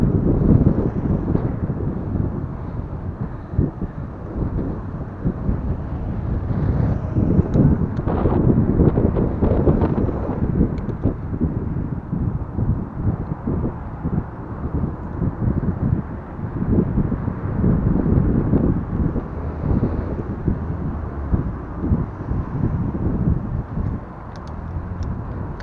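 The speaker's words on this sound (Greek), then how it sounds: "Φυσάει πολύ, ξέρω." Strong wind buffets a microphone beside a Range Rover on a drive toward Oraiokastro, a loud, continuous low rumble with gusty surges throughout and no voices.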